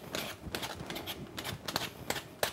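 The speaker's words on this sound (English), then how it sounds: "We gotta peel those potatoes." A peeler scrapes raw potatoes being prepared for potato pancakes, making a run of quick, close scraping strokes with a sharp stroke near the end.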